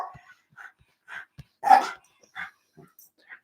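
Dogs give short, scattered barks and yips nearby, with one louder bark in the middle and quieter whimpering sounds between the quiet gaps.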